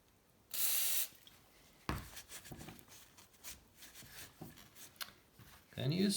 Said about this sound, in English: I'm gonna add some WD-40 here.